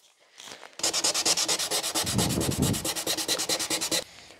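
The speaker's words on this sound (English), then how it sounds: "now that's completely sanded down. All surface rust has been removed" Rapid rhythmic sanding strokes scrub surface rust off a part from a BMW E31 850i during restoration, close and steady for several seconds with no talking.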